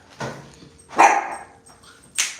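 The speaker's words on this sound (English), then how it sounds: "Don't you bark at that cat." A dog lets out several sharp, close barks and yips at a cat indoors, three distinct bursts spaced across a couple of seconds.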